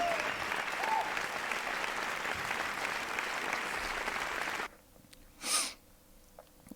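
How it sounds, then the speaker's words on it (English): A loud, dense burst of crowd applause plays during a game awards stream, then stops abruptly, followed by near-quiet and a single short sniff or snort close to the microphone. "Let's listen to the audience applause for this game."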